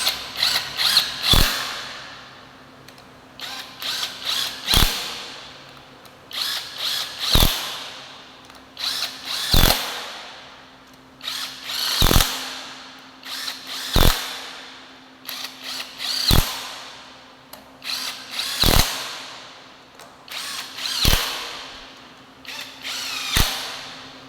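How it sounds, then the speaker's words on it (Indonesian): Impact wrench tightening bolts on a Toyota Kijang 7K engine during an overhaul, about ten loud sharp rattling bursts spaced every two seconds or so, close up with a faint steady hum between them. "Kemudian kita pakai impact untuk mengencangkannya."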